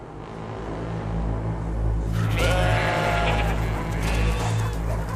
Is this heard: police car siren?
no